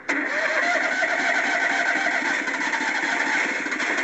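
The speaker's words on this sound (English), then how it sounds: "I want to see how the Bobcat starts." A Bobcat engine with the choke set cranks and catches in bitter cold around ten below, then runs steadily and loudly at a rough idle for several seconds with no talk.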